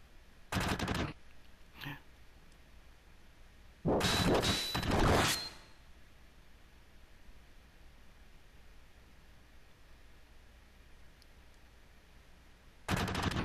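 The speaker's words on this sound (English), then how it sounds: "The heck, gunfire?" Short bursts of rapid gunfire in the video game Final Fantasy VII, machine-gun style, separated by quiet gaps, with one final burst at the end.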